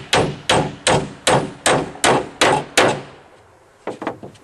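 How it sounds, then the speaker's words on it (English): A hammer nails plywood onto a deck roof in seven loud, evenly spaced wooden blows, then a short pause before two quieter taps close together. "We'll start nailing in this point here"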